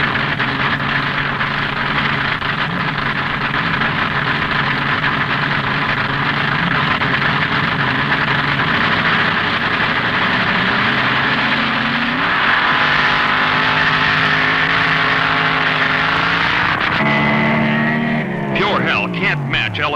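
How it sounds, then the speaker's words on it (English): Gas-burning roadster driven by Ron Ellis of Michigan, leaving first off a handicap drag racing start: a loud, sustained engine roar with rising revs toward the end, continuous and close throughout. "Leaving first on the handicap start will be the gas-burning roadster of Ron Ellis from Michigan."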